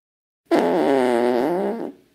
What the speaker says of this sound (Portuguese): Eu peidei